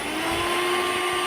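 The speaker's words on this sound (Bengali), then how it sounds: "হ্যান্ড ব্লেন্ডারের সাহায্যে ওই ক্রিমটাকে গামলার মধ্যে নিয়ে সম্পূর্ণ ক্রিমটাকে সুন্দর করে চারিদিকে ঘুরিয়ে ঘুরিয়ে একটা সুন্দর ফোম তৈরি করলাম" Hand blender whipping cake cream into foam in a bowl, a steady, continuous high-pitched motor whir with a droning tone, heard alone and close for a brief moment.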